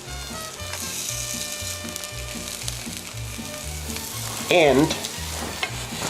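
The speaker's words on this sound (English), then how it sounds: "I'm going to be placing the tortillas back into the griddle for right now." Tortillas sizzle and fry on a hot griddle, making a steady crackling hiss throughout, with a low rhythmic thumping underneath and a brief louder burst near the end.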